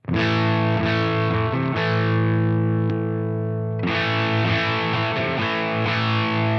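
An electric guitar through a Flattley Plexstar pedal at very low gain, lightly driven and slightly crunchy, strums sustained chords that ring out, pause briefly, then strum again.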